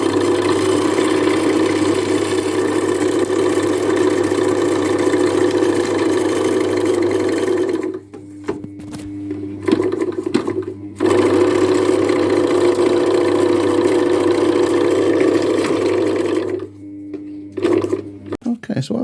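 A Rolls R1 8mm film projector fitted with a homemade DIY belt runs with a steady mechanical hum and whir, close and fairly loud, cutting out briefly twice before resuming its continuous drone.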